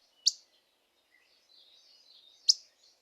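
Recorded least flycatcher wit calls: two short, sharp, high notes about two seconds apart, clear and isolated over a faint, thin background.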